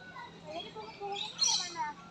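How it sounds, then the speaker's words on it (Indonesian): Small sparrows chirp inside a park building, sounding as faint scattered tweets that are partly masked by soft talk in the enclosed space. "Burung-burung kecil tuh, burung gereja itu, masuk dari itulah, dari celah-celahnya itu."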